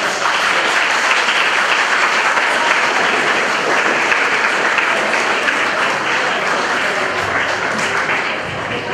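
A crowd of guests at a school ball claps for the parents, a dense, sustained round of applause that stays loud and even for the whole stretch.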